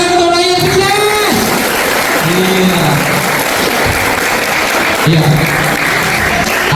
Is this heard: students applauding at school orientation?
yes